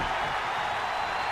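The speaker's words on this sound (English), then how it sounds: "now you can hear the crowd starting to rally behind Falcon a little bit" Steady crowd roar from a wrestling video game arena rises as the crowd rallies behind a wrestler named Falcon after a powerbomb kickout, a dense continuous wash of cheering with no voices on top.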